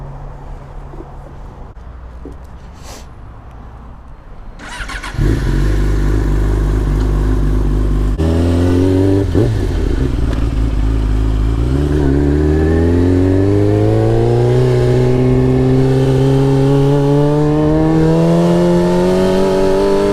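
A Yamaha R6 motorcycle engine, quiet at first, then bursts to a loud near roar around five seconds and keeps revving while riding, pitch climbing repeatedly through gears in rising sweeps, continuous to the end.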